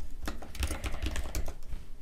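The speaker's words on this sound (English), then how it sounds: "Let me just try plan on typing it." Rapid, steady clicking of keys as a code is typed on a computer keyboard, close and alone with no voices.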